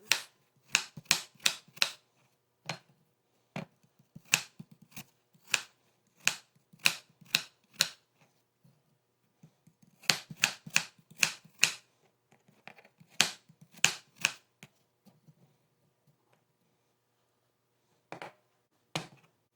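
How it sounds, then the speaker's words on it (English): A knife chops an apple into bite-sized pieces on a board for a wild rice salad: quick runs of sharp, crisp chops with short pauses between bursts, close and clear, with no talking. "I didn't do a super fine dice on the apple, I just chopped it into bite-sized pieces."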